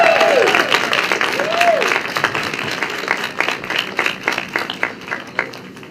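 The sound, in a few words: audience applause welcoming Jay Shafer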